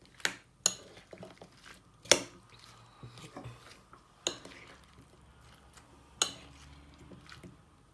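Grapes and fruit-cocktail pieces being stirred together for a fruit chaat, soft wet squishes with a few sharp spoon-against-bowl clinks spaced irregularly, close and fairly quiet.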